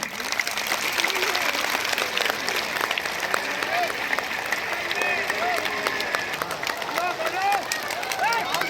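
A crowd in Dehradun greets Prem Rawat with enthusiastic applause, a thick, even clatter of many hands mixed with cheering and crowd babble, sustained and fairly loud from start to finish.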